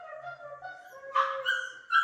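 A puppy whimpering and yipping nearby, with thin high-pitched whines that rise into sharper yips toward the end.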